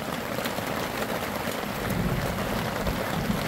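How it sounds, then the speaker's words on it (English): Light rain begins falling on a building site where a pony wall is being cut, a soft steady hiss of drops that thickens slightly toward the end, with no voices. "it started raining."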